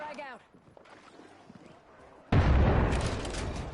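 A frag grenade detonates in the battle-royale shooter Apex Legends: after quieter talk, a sudden loud, broadband blast hits and leaves a sustained rumbling roar afterward.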